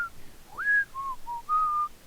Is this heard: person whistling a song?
yes